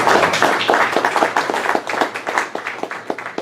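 Audience applause at a panel discussion on sanctuary cities, a dense burst of many hands clapping close by that thins into scattered, individual claps toward the end.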